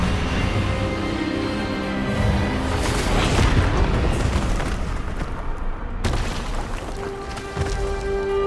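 An Expelliarmus spell cast in Hogwarts Legacy, a dense, loud rumbling blast with crackling energy that swells and then cuts off, followed by a lingering tone.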